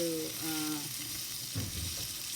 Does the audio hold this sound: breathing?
no